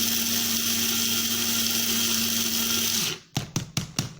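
Electric grinder whirring steadily as it grinds rice into a fine powder, a continuous high motor drone that cuts out near the end and is followed by a few short bursts.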